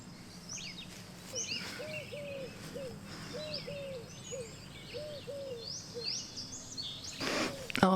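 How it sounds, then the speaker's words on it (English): Birds singing outdoors on a late-spring morning, a repeated chirping phrase close by with higher twitters scattered behind it, fairly faint over a quiet background, ending in a brief louder rustle. "I'm just gonna sit here and listen to the birds and drink my coffee"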